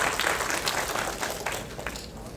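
Audience applause at a technology conference talk, a dense steady wash of many hands clapping that fades slightly toward the end, with no voices over it.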